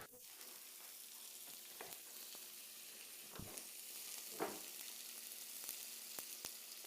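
Carrot and potato patties fry gently in butter in a pan, a faint, even sizzle running throughout with a few soft taps and clicks of a utensil.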